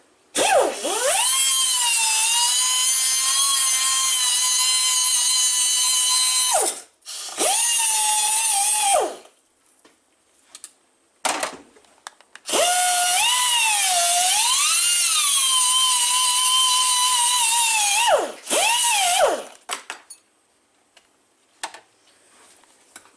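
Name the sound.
small grinder grinding off axle boot clips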